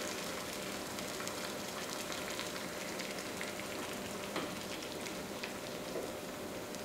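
Steady, soft bubbling and hissing of water boiling in a pot with eggs being hard boiled, continuous and fairly quiet, with no voices.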